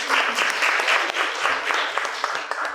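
Audience applause at a Global Social Work Day presentation, steady and fairly loud clapping from a roomful of people for visiting representatives, sustained throughout without any talk.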